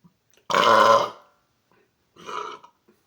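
Two burps after drinking Coke Zero Cherry Float, nearly flat on carbonation: a loud, drawn-out belch, then a pause and a shorter, softer one, close to the mic with no talking.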